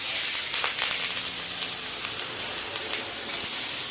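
Onions sizzling and frying in hot oil for a rui fish curry, a steady close broadband crackle and hiss running through the whole stretch, with no talk over it.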